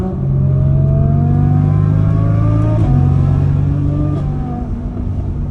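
A supercharged Audi R8 engine drones loudly and steadily, its pitch climbing gradually as it revs, with no voices over it.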